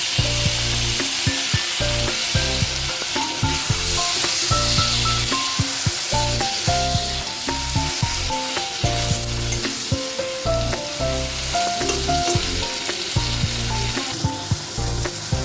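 Tomatoes frying with soybean dopiaza in a hot pan: a loud, continuous sizzle with stirring clatter, while a melodic tune plays underneath the whole time.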